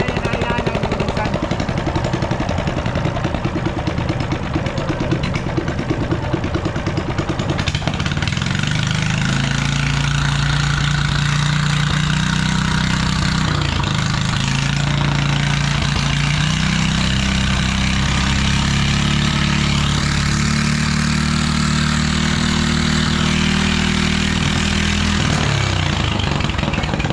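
A large service-boat engine starts and then runs steadily with a loud, deep, throbbing drone, near and continuous, after a noisy opening stretch.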